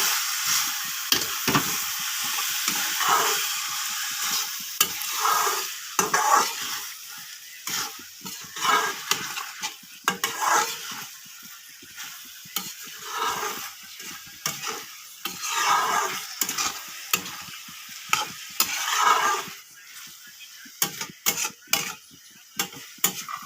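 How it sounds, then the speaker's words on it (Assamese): Banana flower (koldil) and meat are stirred and fried in hot oil, a loud continuous sizzle broken by frequent scraping and clattering strokes of a spatula against the pan. "কলডিলখিনি দি মই ভালকৈ লৰাই দিম।"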